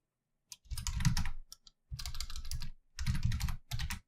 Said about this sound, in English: Typing skills are off tonight.